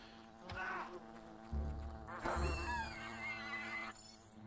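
Wasps buzz in Fable: The Lost Chapters, a wavering insect drone that swells and fades across several seconds, with a louder, closer pass midway and soft voice-like sounds underneath.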